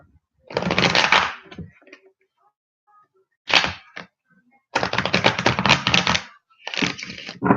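Playing cards being shuffled in several quick riffling bursts, crisp and close, separated by short pauses and a few light taps.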